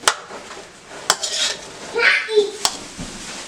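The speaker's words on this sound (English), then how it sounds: "I'm just going to keep on stirring this up." Chicken fried rice being stirred in a pan: sharp metal spatula clanks and scrapes against the pan at irregular intervals over a faint background sizzle, close by.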